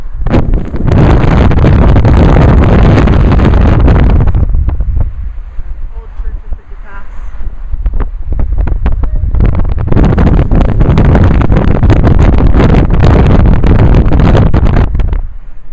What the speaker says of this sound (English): We may give you a really windy sound and show you out the window